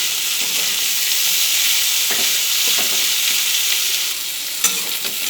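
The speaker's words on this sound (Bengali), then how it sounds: "ভালোভাবে নাড়াচাড়া করে উচ্ছে আর কুমড়োটাকে ভেজে নিচ্ছি।" Bitter gourd and pumpkin pieces fry in hot oil in a pan, making a loud, continuous sizzle broken by intermittent scraping and clattering strokes as a spatula stirs them.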